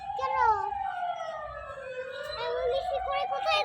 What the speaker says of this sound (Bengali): কিসের শব্দ মা? অ্যাম্বুলেন্সে।